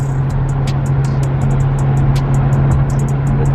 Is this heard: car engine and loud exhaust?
yes